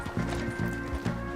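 Rhythmic hoofbeats of a galloping horse in Red Dead Redemption 2, loud and close, repeating in a steady thumping cycle.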